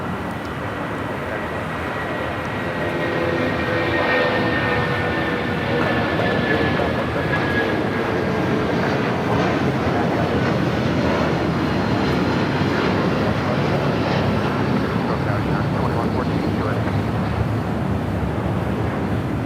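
A jet airliner takes off at Los Angeles LAX airport, its engine roar building and holding as a broad, loud, sustained rumble heard from a distance across the whole stretch.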